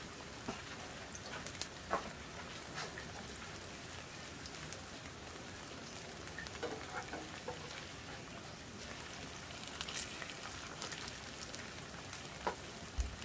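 Perilla leaf pancake (deulkkaetnip buchimgae) frying in a pan, a steady dense crackling sizzle like light rain with scattered sharper pops, close and continuous, with no talk.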